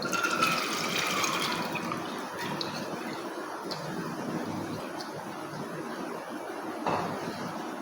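Hot water is poured from a bowl into a pressure cooker holding soaked dal, a steady splashing, gurgling stream that carries on for several seconds, close and moderately loud, with no talking.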